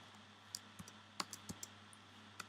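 Scattered keyboard clicks as someone types an SQL query on a computer keyboard, a few sharp keystrokes spread irregularly over a quiet background hum.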